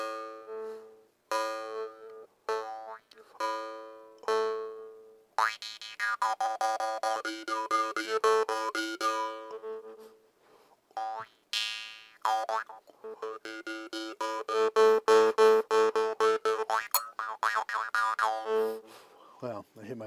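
A jaw harp plucked in a series of twangy, boinging notes with shifting resonant overtones, played close and clear in bursts with short pauses between.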